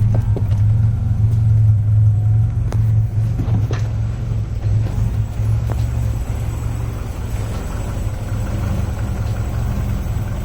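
Car engine idling rich after a cold start, a steady low rumble close by, slightly uneven and gradually settling, with no talk over it.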